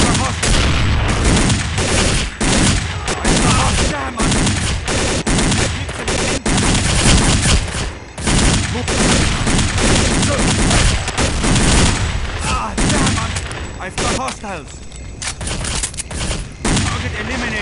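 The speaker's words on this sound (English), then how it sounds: "Sir, we are taking fire from the tunnel." A loud, sustained firefight in Counter-Strike: Condition Zero: dense automatic gunfire with repeated sharp shots and bursts running almost without pause, with radio-style voices speaking over parts of it.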